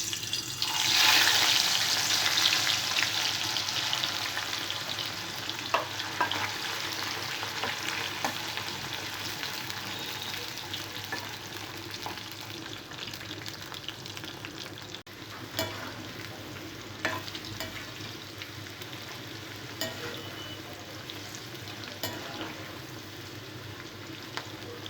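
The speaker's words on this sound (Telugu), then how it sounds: "ఆయిల్ వేడిన తర్వాత దొండకాయ ముక్కల్ని ఫ్రై చేసుకోవాలి." Ivy gourd pieces fry in hot oil, a continuous dense sizzle that starts loudest and settles into a steady crackling hiss with occasional pops and stirring clicks, close by and without any voices.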